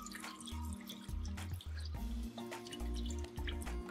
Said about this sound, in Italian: andiamo a mettere l'acqua del pomodoro